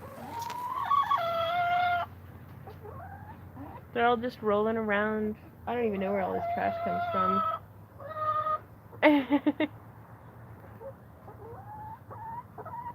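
Backyard chickens clucking and squawking in a series of close, irregular bursts, with someone talking softly between and over the calls.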